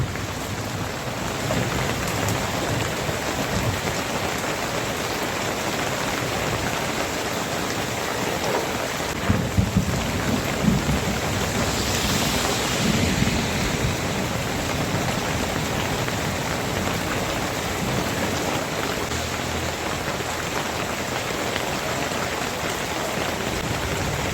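A sudden summer downpour pounds steadily over a shop for the whole stretch, a dense, even hiss of heavy rain with a low rumble of thunder near the middle and no voices.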